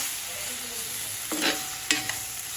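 Okra and potato coated in pav bhaji masala are stirred in a pan, a low frying hiss underneath two brief, sharp scraping strokes of the spatula.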